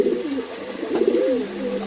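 Fancy pigeons in a loft in Mirpur, Dhaka, coo close by in low, warbling, rolling phrases that run almost continuously over a quiet background.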